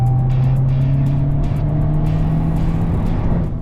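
A Skoda Octavia vRS's 2-litre TSI Evo turbo petrol engine revs loudly and close by, a sustained throaty roar that holds steady before easing slightly at the end.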